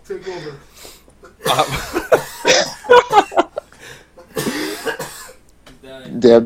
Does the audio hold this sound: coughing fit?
yes